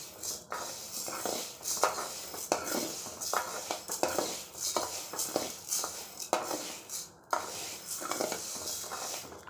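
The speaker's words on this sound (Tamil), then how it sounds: "லோ ஃப்ளேமில் வச்சுக்கிட்டு நம்ம வந்து வறுத்துக்கிட்டே இருக்கணும் நல்லா." Horse gram dry-roasted in a pan over a low flame, stirred constantly with a metal spoon that scrapes and clinks against the pan in a steady, busy rhythm, close and fairly loud.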